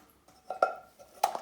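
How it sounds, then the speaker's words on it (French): A few light metallic clanks and knocks as a small pan is picked up and set down, close by, with short gaps in between. "on prend une petite casserole"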